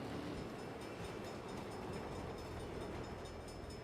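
A train in the Saints Row game rumbles past steadily, a dense continuous roar of wheels and rails with no break and no talk.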